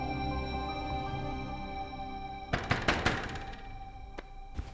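Knocking on a house door, several sharp thuds in a short irregular burst, then one more knock after a pause, sounding close over a steady background of music in a TV drama scene.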